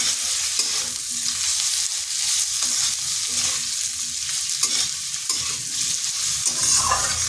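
Ginger and green chili fry with potatoes in a pan for a vegetarian ridge gourd and bori dish, a continuous sizzle broken by repeated scraping stirs of a spatula, no talking.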